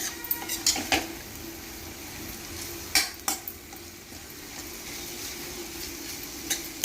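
Bitter gourd and onion frying in a pan, a steady sizzle with occasional sharp scrapes and clinks of a spoon stirring against the metal, close and without voices.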